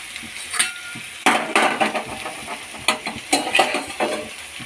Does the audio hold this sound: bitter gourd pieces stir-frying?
yes